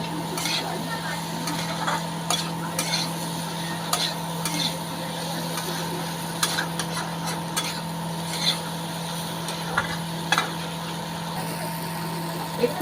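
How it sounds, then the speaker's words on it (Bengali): Meat, soybean chunks and potato curry are stirred and fried in oil in a pan, with a soft continuous sizzle, scattered scraping and clinking spoon strokes, and a steady low hum from nearby equipment. "দিয়ে এইবার আস্তে আস্তে কষবো, একটু জল দেবো আর কষবো"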